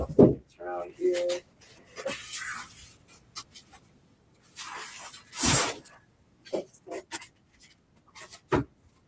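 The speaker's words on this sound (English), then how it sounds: "I shuffle these around here." Comic books are shuffled around on a table, giving bursts of papery rubbing, sliding and soft knocks with pauses between, while a person talks in between.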